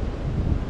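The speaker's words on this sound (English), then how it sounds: "It's very windy, so I do apologise if you can't hear me as well as you'd like to." Wind gusting across an open churchyard in the village of Heptonstall, a brief burst of low rumbling buffeting against the microphone, fairly loud, with no voices.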